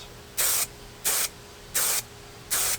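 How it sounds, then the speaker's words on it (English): An aerosol can sprays a light coating onto a model aircraft part in four short, evenly spaced hissing bursts, close and fairly loud, with quiet gaps between them. "Now try to not spray it on your hand."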